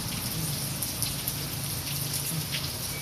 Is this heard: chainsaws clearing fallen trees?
no